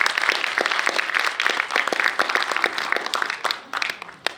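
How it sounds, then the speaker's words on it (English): An audience at a literary festival event gives a round of applause, a dense, continuous wash of many hands clapping that holds steady and thins slightly toward the end. "Can we have a round of applause"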